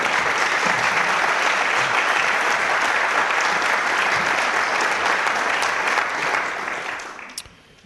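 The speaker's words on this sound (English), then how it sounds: "That deserves a round of applause." A room of attendees at a city council meeting breaks into sustained applause, loud and dense clapping that carries on for several seconds before tapering off at the end.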